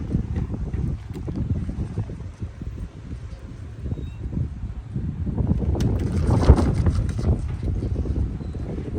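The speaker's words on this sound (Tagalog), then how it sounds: "Mahangin din kasi dito guys, sa area namin eh." Steady gusty wind rumbles against the microphone throughout, with a louder buffeting burst toward the end; no one speaks.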